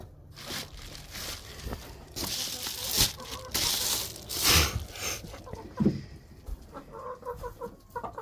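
Laying hens cluck and squawk in irregular bursts close by, mixed with rustling and some soft talk in the background.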